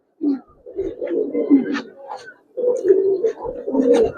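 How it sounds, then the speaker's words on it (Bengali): Pallah line pigeons coo close by in two bursts of low throaty rolling calls with a brief pause between them, loud and clear. "পাল্লা লাইনের কবুতর"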